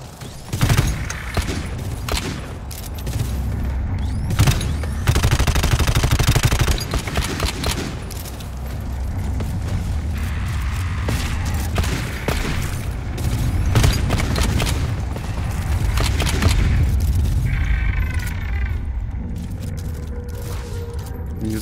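Dense bursts of rapid gunfire and booming explosions from the co-op shooter GTFO go on continuously, loud and close, with only brief faint voices under the barrage.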